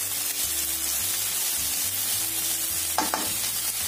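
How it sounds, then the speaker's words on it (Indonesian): Garlic chives being stir-fried in a pan, a steady low sizzle with soft stirring scrapes and a couple of sharper clatters near the end; no voices. "Tumis sampai layu."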